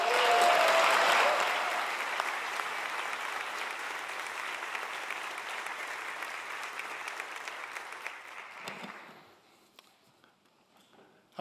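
Sustained audience applause at a university honors ceremony for student workers, dense and steady before fading out near the end.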